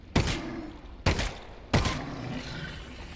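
Three virtual gunshots in the VR game Half-Life: Alyx, each a sharp, loud crack followed by a short decaying tail, spaced about a second apart, with no talking.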